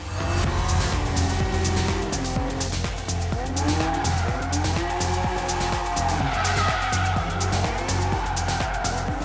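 A drift car leaves the start line with loud, sustained tire squeal and skidding, its engine revving and wailing up and down in repeated swoops, close and continuous without talk.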